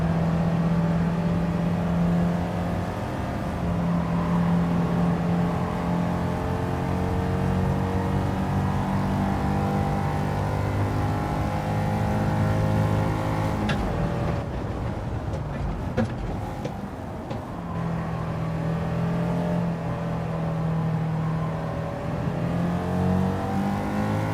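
Race car engine in Gran Turismo 7 droning loudly at high revs for a long stretch, its pitch wavering and briefly dropping before climbing again, with a voice talking over it at times.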